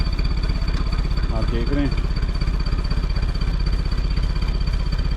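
An off-road vehicle's engine crawls at low RPM on sand in a low gear ratio, a steady, pulsing low throb close by with a faint whine above it, while someone speaks briefly over it.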